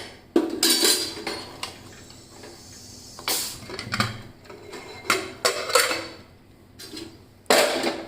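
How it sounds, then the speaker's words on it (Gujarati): Metallic clanks and clinks as a pressure cooker lid is opened, several sharp knocks of lid and pot spaced irregularly over a quiet kitchen background. "હવે આપણે કુકરનું ઢાંકણ ખોલી લઈશું"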